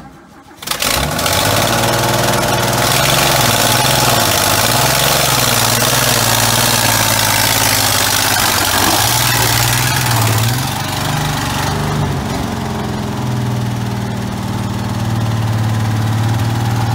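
A VC Valiant ute engine starts in the first second, then runs steadily and loudly up close for the rest of the clip with a deep, even drone and slight shifts in pitch.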